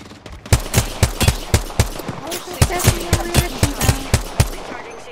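Rapid R99 submachine gun bursts in Apex Legends, loud sharp shots in quick regular runs with short gaps between volleys, a game voice line heard faintly beneath the firing.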